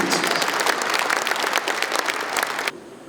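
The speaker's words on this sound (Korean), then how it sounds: "감사의 박수로 받아보겠습니다" Dense, loud applause from attendees at a 2024 New Year reception in Daegu welcoming the president, a continuous roar of many hands that cuts off abruptly near the end.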